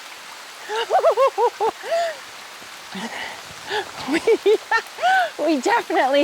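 A sudden outdoor rain shower makes a steady wash of falling water beneath excited, exclaiming voices that dominate throughout.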